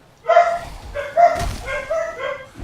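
Several dogs bark in a short burst of three or four yelps and barks, fairly close and loud, with a faint murmur of talk underneath.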